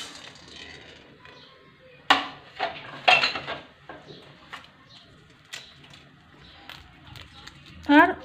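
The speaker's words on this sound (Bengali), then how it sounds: "শুকনো মশলা শুকনো খোলায় নেড়ে নেবো" Whole dry spices (cardamom, cloves, mace, cinnamon, black peppercorns, cumin and coriander seeds) are stirred in a dry pan, giving scattered clinks and scrapes of a metal spatula, while someone talks throughout.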